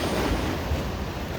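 Ocean surf at a king tide in San Francisco, a steady close wash of breaking waves with strong wind rumbling against the microphone throughout, no voices.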